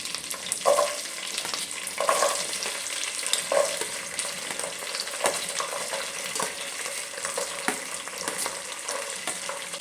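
Peeled garlic frying in oil for lemon pickle, a dense continuous crackling sizzle, close and steady, with occasional spoon scrapes against the pan.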